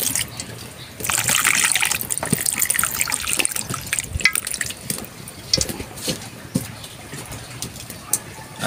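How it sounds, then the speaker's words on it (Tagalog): Water poured into a cooking pot for fish paksiw with batuan leaves, onion and ginger, a close trickling and splashing stream that starts abruptly, runs for several seconds, then thins into scattered drips and clinks. "Tubig."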